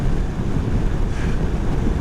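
Strong wind buffets the microphone on a moving Honda NC750X motorcycle in rain, a continuous roaring rush, loud and unbroken, with no voices.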